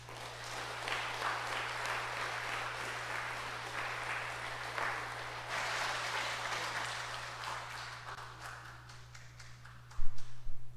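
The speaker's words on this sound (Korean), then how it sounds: "큰 박수 다시 한번" Sustained applause from a large church congregation during a scholarship ceremony at a Sunday service, steady clapping filling the room for several seconds, with a few louder claps near the end.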